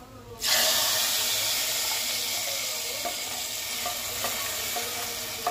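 Fried onion tempering hits amaranth leaf dal with a sudden loud sizzle that holds steady and close, with faint stirring clinks underneath.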